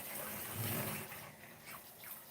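Tap water runs steadily into a sink while a drinking straw is rinsed out during dishwashing, a soft continuous splashing hiss with slight shifts as the flow hits the straw and basin.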